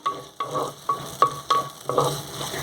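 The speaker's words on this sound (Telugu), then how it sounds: "ఉల్లిపాయలు పచ్చిమిర్చి వేసేస్తున్నా" Onions and green chillies sizzle in a pan for a mango curry, with a soft fry under a steady rhythm of six or seven spatula stirs, close and clear.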